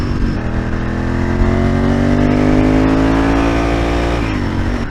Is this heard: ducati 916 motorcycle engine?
yes